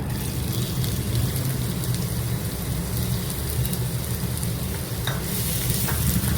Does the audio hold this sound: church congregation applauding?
no